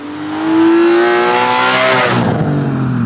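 A heavily modified BMW E36 engine revs hard nearby and holds a loud, rising, buzzy note. Near the end it drops back to a rougher, lower idle, with no one talking.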